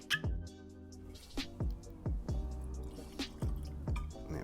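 Ardmore Legacy, a peated Highland single malt whisky, is poured into a glass, giving a quiet series of close liquid drips and plops at an uneven rhythm.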